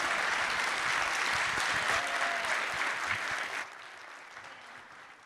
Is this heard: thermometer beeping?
no